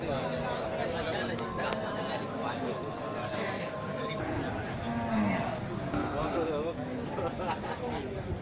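Cattle moo at a busy livestock market where jumbo cows are sold, low bellows rising amid constant crowd chatter and talking, with bustling movement throughout.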